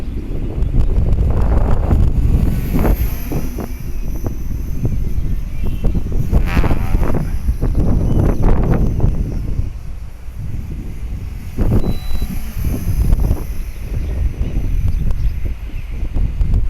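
Gusty wind buffets an outdoor microphone in strong, uneven surges during an attempt to fly an HK-450FBL radio-controlled helicopter, with rumbling roars that swell and ease throughout.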